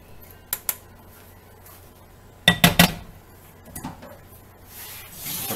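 A metal cooking pot set back onto a stove while making vegan tofu in guajillo sauce, giving a cluster of sharp clanks and clinks midway with a few lighter knocks before and after.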